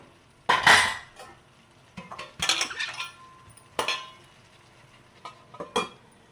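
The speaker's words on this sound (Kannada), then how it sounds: "ಲಿಡ್ ಕ್ಲೋಸ್ ಮಾಡ್ಬೋದು." A metal lid is handled and set on a cooking pan holding paneer roll filling, making a few distinct close metallic clanks and clinks separated by short quiet gaps.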